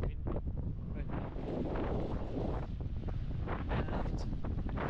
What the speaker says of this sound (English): the wind blows heavily